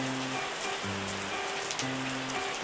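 Rain in the vineyard game Terroir, a steady hiss of drops on surfaces with no pauses, alongside a soft looping low musical tone and no talk.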